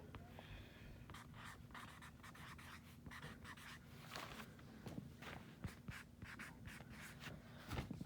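A permanent marker scrawls across paper in quick, separate squeaky strokes, close and fairly quiet, with faint rustling and handling noise in between.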